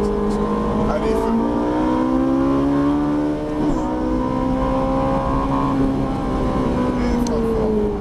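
A Ferrari 458 Italia accelerating hard on a track, a loud in-car engine roar with rising harmonics, a short dip near the middle, then sustained high revs under occasional talk.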